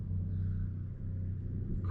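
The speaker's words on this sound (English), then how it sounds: "That noise you can hear is the building works that are currently going on at this hotel" Building construction works at a hotel in Vlorë, Albania, heard as a steady low mechanical rumble with a constant droning hum that continues without a break.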